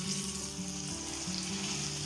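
Beer-battered chicken frying in oil, a steady, fairly quiet continuous sizzle with no break.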